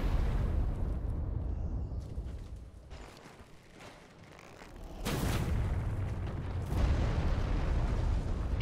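Dark Souls 3 Ashes of Ariandel explosion: a broad rumbling blast fills the clip, dips, then swells again with a sharp burst near the end, dense low roar throughout and no voices.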